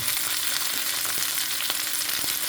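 Sea bream fries in a pan with steady, dense sizzling and spitting oil, loud and close, holding an even crackle throughout with no voices.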